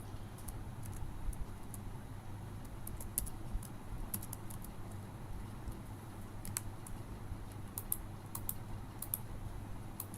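Code being typed on a computer keyboard, heard as quiet, steady key clicks in bursts over a faint low hum.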